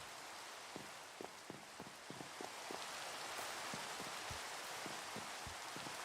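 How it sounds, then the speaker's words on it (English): Steady rain falls in the video game RealmForge, a soft continuous hiss with scattered drips and taps landing close by, no voices present. "Raining. Can't sleep through it."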